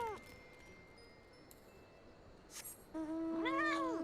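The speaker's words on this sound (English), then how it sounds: "It's a kitty cat." A cat meows in Final Fantasy XIV: a faint game scene with small chimes, then two or three clear, close meows rising and falling near the end.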